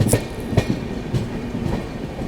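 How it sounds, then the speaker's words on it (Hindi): The 12450 Goa Sampark Kranti Express runs at constant speed on the Konkan line in monsoon, with rhythmic clickety-clack of wheels over rail joints and a rolling rumble heard from on board. "अब चल रही है यार ट्रेन सीरियसली, एक स्पीड को एक कांस्टेंट स्पीड मेंटेन करके चल रही है अपनी ट्रेन जो है"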